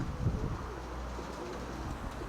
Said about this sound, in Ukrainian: Ця голубонька мені подобається.